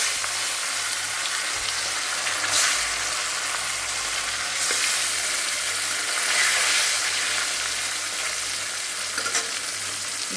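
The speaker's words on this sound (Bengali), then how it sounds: "মাছগুলো ভাজা হোক" Catla fish pieces rubbed with salt and turmeric frying in hot oil in a wok, a loud continuous sizzle with occasional stirring scrapes and surges, close and without speech.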